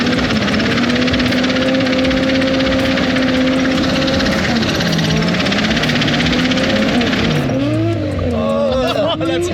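A turbocharged Ford AU Falcon drift car struggling at full throttle, its engine droning and breaking up with wavering pitch, loud and close, with tire squeal and a voice underneath.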